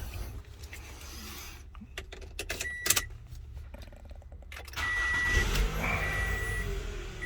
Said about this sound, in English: Now I'm gonna start in the car.